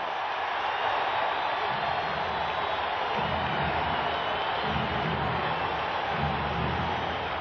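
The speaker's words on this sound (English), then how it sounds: "Crowd is on its feet." A basketball arena crowd roars and cheers continuously at an NBA game between the Los Angeles Lakers and Houston Rockets, a dense, loud wash of noise with no clear voices.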